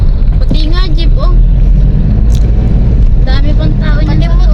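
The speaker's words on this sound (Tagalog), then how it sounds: "Yung tricycle. Pati nga jeep oh." A tricycle and a jeep pass along a road near a bridge, heard from a moving vehicle as a steady engine and road rumble with wind buffeting the microphone, while people talk excitedly over it.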